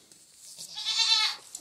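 A farm goat bleats once, a single rising, nasal call close by and fairly loud, with faint rustling before it and no talking.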